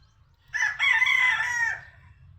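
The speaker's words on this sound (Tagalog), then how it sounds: "Ayan yung barako natin" A single rooster crows once, loud and close, a drawn-out cock-a-doodle-doo of about a second and a half over a faint low background, with no talking.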